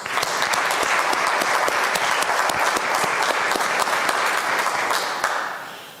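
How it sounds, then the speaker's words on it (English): Steady, dense applause from an audience at a university campus update event, sustained for several seconds before tapering off at the end, with no speech over it. "just give a round of applause for everybody"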